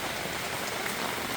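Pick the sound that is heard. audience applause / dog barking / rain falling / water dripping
rain falling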